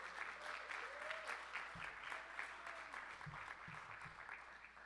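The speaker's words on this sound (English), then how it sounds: "You can clap for her" Applause from an audience at a Young Democrats of America Disability Caucus event, steady, faint and somewhat distant clapping that runs throughout, with a few low thumps mixed in.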